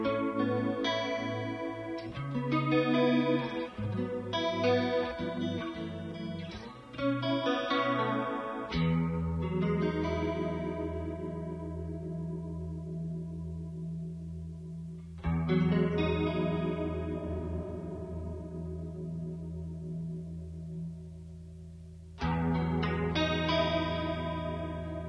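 An electric guitar played through a Boss MD-200 modulation pedal rings out chords and picked notes with a lush, swirling chorus-like shimmer and long sustains that ring out between phrases.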